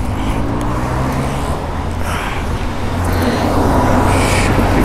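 Royal Enfield Himalayan motorcycle fitted with an Art of Motorcycle PoweRage aftermarket exhaust, heard while riding: a loud, steady, deep engine drone with a low rumbling note that swells slightly toward the end, with no talking.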